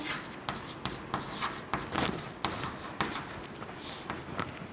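Numbers are written by hand during a counting lesson, with a pen or chalk scratching in short, rhythmic strokes, each mark about half a second apart, close and fairly quiet.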